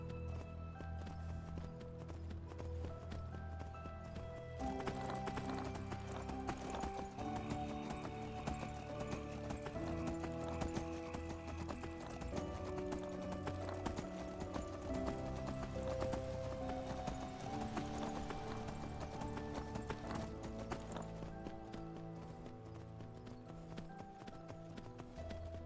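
Donkey hooves clip-clopping steadily in the fantasy game Enderal, a continuous rhythmic patter beneath a loud, dense orchestral music bed that dominates throughout.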